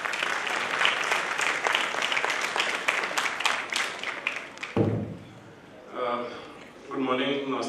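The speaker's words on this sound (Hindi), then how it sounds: "ताली डॉक्टर साहब के लिए बजाएं।" Applause from an audience at a Hindi-language public event on drug abuse, attended by the Governor, in honour of a doctor, dense clapping for about five seconds that then cuts off, followed by a speaker beginning to talk.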